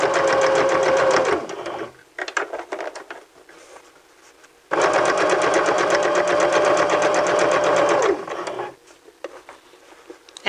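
A sewing machine stitches fabric in two loud, steady bursts of rapid needle chatter, separated by a quieter stretch of handling and mechanical clicks, close and with no talking.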